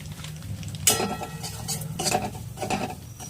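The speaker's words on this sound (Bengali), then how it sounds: "এইবার এই ঘিটার মধ্যে আমি কিছুটা সুজি দিয়ে সুজিটাকে ভালো করে ভেজে নেব" Semolina fries in ghee in a wok as a utensil stirs and scrapes it, giving a few distinct scraping strokes over a soft background sizzle, close and moderately quiet.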